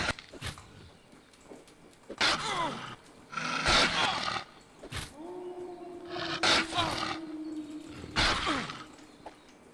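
Wolf in the medieval game world, with several loud drawn-out roaring howls and growls in bursts, separated by quieter gaps with footsteps and ambient noise.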